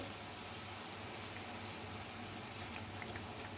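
Steady, soft bubbling and simmering of a thick kofta curry in a pot as it thickens, a continuous low hiss with faint pops throughout.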